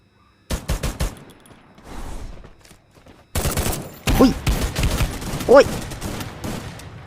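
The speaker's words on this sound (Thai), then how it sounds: "ข้างบนก็ยิง ผมโดนว่ะ" Rapid bursts of automatic gunfire in the Free Fire mobile battle royale game, sharp rattling volleys separated by brief pauses, loud and close, with a voice exclaiming between shots.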